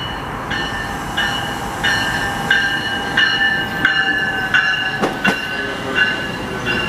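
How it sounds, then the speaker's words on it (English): A commuter passenger train on a Montreal line rolls past close by, a steady loud rumble with rhythmic clicks of wheels over rail joints and a few sharp squeals or clanks near the end. "Another passenger train?"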